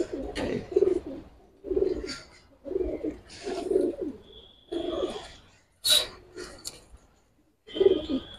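Fighter pigeons in a loft give repeated low cooing phrases in bursts, with short pauses between them and a brief higher chirp partway through, heard close and fairly clear.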